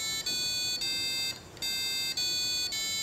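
A KY006 passive buzzer module driven by an Arduino plays a bright, shrill electronic tone in short repeated pulses with brief breaks, steady and close, and no one speaks.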